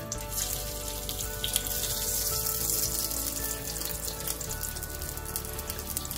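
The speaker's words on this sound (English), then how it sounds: "we're gonna start by frying these potatoes first so they're completely cooked" Potatoes frying in a pan of heated oil, a steady dense sizzle and crackle that stays fairly loud and even throughout, with no voices.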